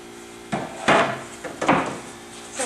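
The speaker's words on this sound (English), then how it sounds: "now I'm going to nail it up" A hammer drives nails into a wooden cabinet against a furring board at close range, with four or five sharp, hollow wooden knocks spaced irregularly across a few seconds.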